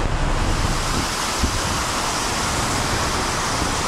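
Ocean surf breaks along the Madeira coast in a constant broad roar mixed with wind buffeting the microphone, loud and close, with no voices.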